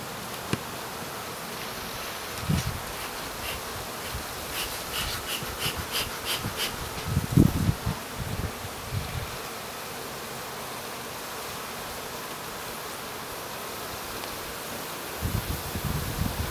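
Bees swarm around a hive during a bee removal while smoke is used on them, a steady hiss-like buzzing throughout with scattered rustles and low thumps, no talking.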